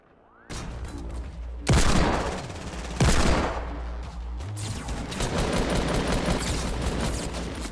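Rapid automatic assault rifle fire in a video game, dense bursts of loud cracking shots with a couple of heavier booming impacts, then continuous gunfire and crackle, with no talking over it.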